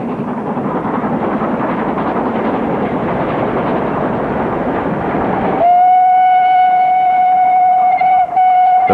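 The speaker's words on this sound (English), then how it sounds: "Crab 42765 is banked by 52322 at Brooks Bottom Viaduct on the 1345 freight" LMS Crab steam locomotive 42765, banked by 52322, hauls a freight over Brooks Bottom Viaduct with a loud, steady rumble of wheels and exhaust, followed by a long sustained whistle near the end.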